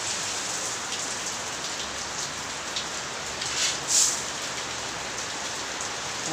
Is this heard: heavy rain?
yes